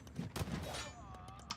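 Hand cannons firing in an Age of Empires 2 battle against samurai, a few quick, quiet gunshot cracks in a short burst with game clatter behind.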